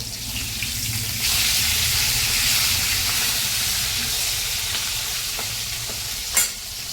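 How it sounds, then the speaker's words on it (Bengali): Fish fries in oil in a pan. A loud, steady sizzle fills the whole stretch, with a single sharp clink near the end and no talking. "দেখো মাছ ভাজা হয়ে গেছে তো তেলের মধ্যে"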